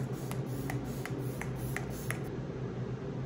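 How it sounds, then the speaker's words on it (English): A Maybelline Lasting Fix setting spray mists onto a face, about seven quick pump sprays in an even rhythm, close and soft over a constant background hum, with no talk. "with the Maybelline Lasting Fix Spray"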